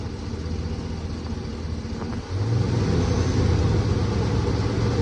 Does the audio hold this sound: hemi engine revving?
yes